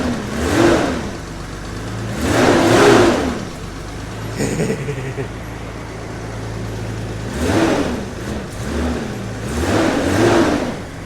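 A Datsun car engine, just running again after its clicky fuel relay connector was rewired and still carrying a few vacuum leaks, revs up in four strong surges with an idle between them, loud and close, with no talking.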